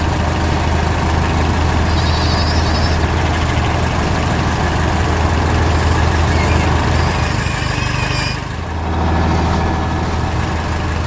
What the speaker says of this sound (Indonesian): Mobil traktor sedang bekerja keras